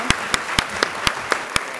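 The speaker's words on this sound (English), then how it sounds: "Please join me in a round of applause for our excellent speakers." Sparse, evenly spaced claps from a small luncheon audience at a keynote event, about seven sharp hand claps in under two seconds, fairly close and isolated against a quiet room.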